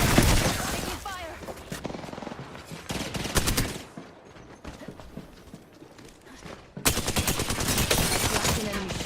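Gunfire in the battle royale game Apex Legends: rapid bursts of automatic shots, dense and loud at the start, thinning in the middle, then a heavy sustained barrage at the end.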